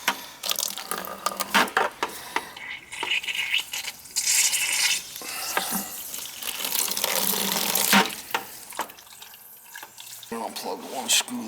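Water rushes and splashes in a steady stream as a household water booster pump's pressure tank is drained, with scraping and handling noises and occasional talk over it.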